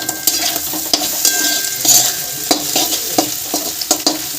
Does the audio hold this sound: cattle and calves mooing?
no